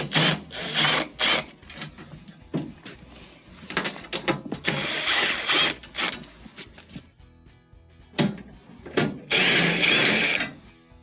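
Screws are backed out of a refrigerator's freezer access panel, 1/4-inch fasteners along the top, with a ratchet in repeated bursts of ratcheting and clicking, close and fairly loud, separated by short pauses.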